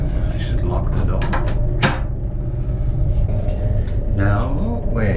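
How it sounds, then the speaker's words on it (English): A toilet door lock clicks and clunks shut aboard a Chinese bullet train, a sharp close latch sound over the steady rumble of the moving carriage, with a voice speaking nearby. "I should lock the door."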